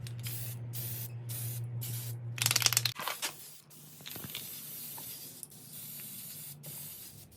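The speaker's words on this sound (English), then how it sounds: "we're going to go ahead and paint it with the" An aerosol can spray paints an aluminum wall-mount hose reel in a series of close, loud hissing bursts with short gaps, followed by quieter handling and faint rustling.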